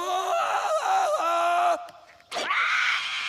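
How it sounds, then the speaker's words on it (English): Cartoon jungle yell from a character in George of the Jungle before swinging off: a long, loud warbling cry that breaks off, a short pause, then a second sharp rising shout. "A clear jungle yell tells everyone you're ready to swing."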